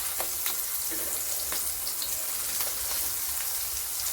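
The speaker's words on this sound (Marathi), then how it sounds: "आता हे एक वांग्याच्या कापा याच्यामध्ये लावून घ्यायचे आणि छान दोन्ही साईडनी खरपूस अशा भाजून घ्यायच्या" Eggplant slices sizzle in hot oil in a pan, a dense, continuous crackling fry with scattered sharp pops, close and steady throughout.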